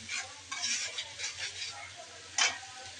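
Masala spice paste for fish fries in a pan with onion and green chili, a soft low sizzle broken by stirring scrapes and a sharper clatter near the end.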